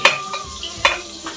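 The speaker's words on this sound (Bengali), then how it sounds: "আর এখানে আমি পিতের জন্য পাঁপড় ভাজছি 1 পিস" A single papad fries in a pan with a soft, close sizzle, punctuated by two sharp clinks of a utensil against the pan and a fainter tap near the end.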